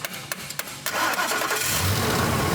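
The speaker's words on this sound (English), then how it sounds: "So go ahead and start cranking it." A car engine cranks in a few short, separate bursts and then catches, settling into a steady, loud running roar right up close.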